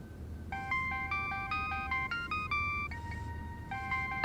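A mobile phone ringtone plays a bright, stepped electronic melody of repeating tones for several seconds at steady, moderate loudness over a low background hum.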